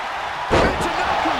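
In a WWE wrestling video game, a single heavy slam lands as a wrestler is driven face down onto the mat, a sharp thud amid a commentator's voice.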